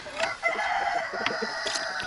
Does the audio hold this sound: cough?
no